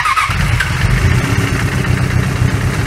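A Suzuki GSX750F motorcycle idles after its carburetors were balanced with a hose, no longer running on three cylinders, giving a steady, even, close-up engine rumble throughout.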